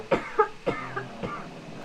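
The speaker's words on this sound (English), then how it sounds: "Excuse me while I cough." A person with a cold coughs several times in a row, with close, harsh bursts spaced unevenly and some throat clearing between them.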